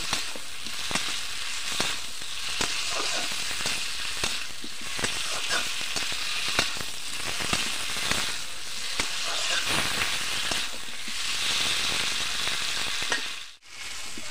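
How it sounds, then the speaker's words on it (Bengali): Loud, continuous sizzling of fried shrimp and spices cooking in a hot pan, broken by regular scraping strokes of stirring. "দিয়ে ভালো করে কষিয়ে নেব।"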